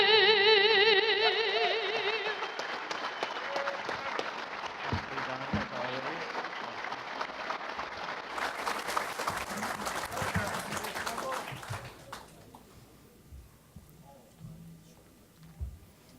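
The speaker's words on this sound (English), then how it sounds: "Let's give her another round of applause." Banquet audience at a 2017 Lincoln Day Dinner applauds after a national anthem performance; the last sung note fades into sustained clapping that gradually thins out and trails off toward quiet.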